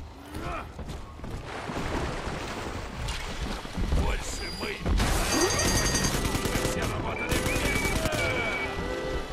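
A machine gun in the video game BioShock 2 lets off dense bursts of rapid fire amid ambient in-game noise, growing louder in the second half, while a player talks over the action.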